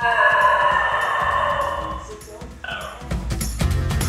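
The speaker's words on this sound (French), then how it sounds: "Le Basenji est une race de chien qui a la particularité de ne pas aboyer." A Basenji, a barkless dog breed, gives a few odd, yodel-like yips and whines, higher and tonal, followed by shorter cries and some background noise.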